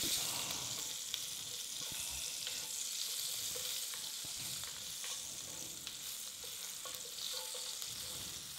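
Mashed garlic sizzles steadily in a hot Dutch oven, a dense, continuous frying hiss with faint crackles and no talking.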